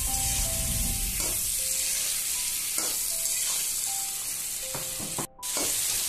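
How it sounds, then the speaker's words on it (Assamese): Chopped onion fries in a pan for chicken curry with a loud, steady sizzle. Occasional stirring scrapes break in, and there is a brief dip near the end. "পিঁয়াজ মই এনেকৈ টুকুৰা টুকুৰাকৈ কাটি থৈছিলোঁ, সেইখিনি দি দিম এতিয়া। দি অকণ সময় ভাজি"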